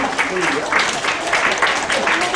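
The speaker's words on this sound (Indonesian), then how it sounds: "Tepuk tangan dulu buat kita semua." Seminar audience applause, a dense, steady clatter of many hands with voices mixed in, filling the room at close range.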